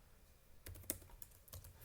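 Someone types a short word in capitals on a computer keyboard, a quick burst of light key clicks coming close but faint against a quiet room.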